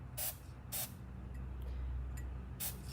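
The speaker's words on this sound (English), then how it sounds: "And you know I'm gonna spray it again." Red, white and blue spray paint hisses from a can in three short close bursts, then two fainter quick puffs, with quiet gaps between them.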